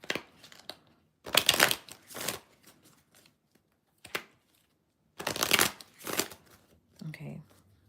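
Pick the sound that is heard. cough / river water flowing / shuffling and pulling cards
shuffling and pulling cards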